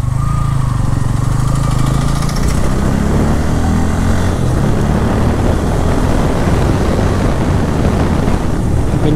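A Bajaj Pulsar N160 motorcycle's engine and exhaust while riding, a loud steady droning rumble mixed with strong wind noise, continuous throughout.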